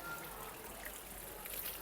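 Near-boiling hot spring water runs out of an outlet at Jogini falls near Manali, a steady close trickle and stream of water with no voices over it.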